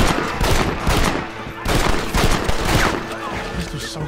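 Pistol gunshots in the Western video game Red Dead Redemption ring out as loud, rapid bursts of sharp cracks with echoing tails, several shots in quick succession under continuous game noise.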